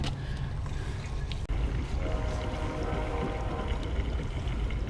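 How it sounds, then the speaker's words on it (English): Fuel pours into the tank of a Predator 212 engine, giving a soft, steady liquid gurgle and trickle that runs without a break under low background rumble, fairly faint and close. "Well, we'll go ahead and fuel it anyway."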